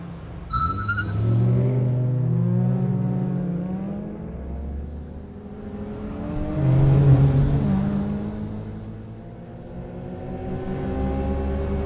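Race cars pull away at a restart in a racing game: engines rise and fall in pitch through successive gear changes, a loud steady roar swelling twice, close and sustained with no talk.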